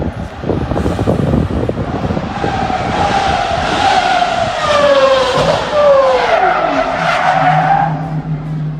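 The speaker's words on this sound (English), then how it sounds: "At least the exhaust sound of the Pagani makes up for this fail." A Pagani supercar skids with its tires squealing loudly over a roaring exhaust. A long, rising and falling screech runs continuously for several seconds, close and dominant.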